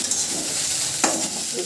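Pasta cooking in a little oil in a home kitchen, a brief soft sizzle with one sharper stir or scrape partway through.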